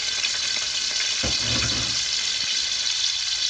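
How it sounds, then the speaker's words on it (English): Onions dropped into hot oil with golden-browned cumin seeds in a pot for chana pulao, giving a burst of close, loud sizzling and frying that crackles steadily over a constant hiss. "The cumin seeds have become golden brown in it, so now we will add onions in it"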